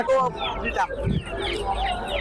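Chickens cluck at a busy live poultry market selling local and fancy breeds, with short bird calls scattered under the nearby talk of people bargaining.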